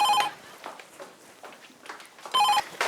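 A telephone rings in a TV drama scene, two bursts of a bright electronic ring at the start and near the end with quieter room sounds between, no talk.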